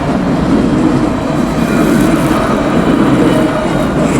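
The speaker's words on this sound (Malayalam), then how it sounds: "ഇവിടെ നമ്മൾ ട്രാം കാണാൻ സാധിക്കും, റോഡിലൂടെ ഓടുന്ന മെട്രോ." A tram runs along street rails in Rabat, Morocco, with a loud, steady rumble and rolling drone close by, and no talk over it.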